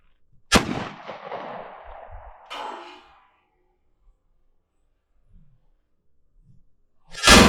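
A shotgun fires a 7/8 ounce Fiocchi shell outdoors, one sharp loud blast followed by a fading rolling echo, then a second fainter crack and later another loud report near the end.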